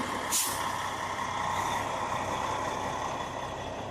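Truck air brake releasing with a short sharp hiss near the start, over a steady rumbling diesel engine while the truck is maneuvered and backed up.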